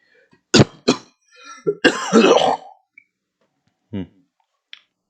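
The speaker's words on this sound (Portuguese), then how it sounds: "Eu tô com tosse aí, foi mal" Two sharp coughs, then a throat-clearing rasp and a few smaller coughs and clicks trailing off, close and fairly loud with no talking.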